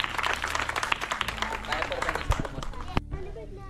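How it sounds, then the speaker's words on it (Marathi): Clapping breaks out for children receiving prizes at a school Republic Day celebration, quick sharp claps over chatter and nearby voices, stopping abruptly near the end. "टाळ्या."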